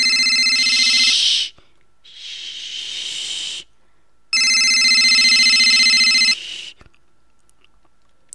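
A telephone in a horror video game rings loudly in two long electronic bursts with gaps between them, shrill and harsh with a hissing edge, followed by a short faint blip.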